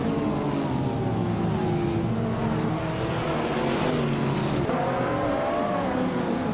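A turbocharged supercar engine in a racing video game roars at a constant high pitch, a loud, continuous drone with harmonics that climb slowly and dip briefly before rising again as it revs.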